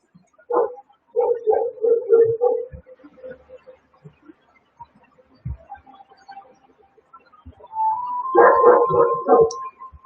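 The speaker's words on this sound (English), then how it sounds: "That dog doesn't shut up." Close, loud barking from a dog comes in irregular volleys with yips and a faint whine, broken by quieter gaps before a final dense burst.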